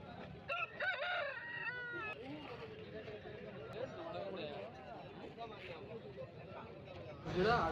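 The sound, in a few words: rooster crowing at market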